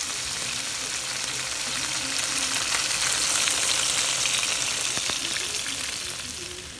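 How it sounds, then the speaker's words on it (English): Chicken pieces frying in a pan, a dense steady sizzle and crackle with scattered pops, close and fairly loud, swelling slightly midway and easing toward the end with no talking. "I'm frying them. I love to hear food sizzle."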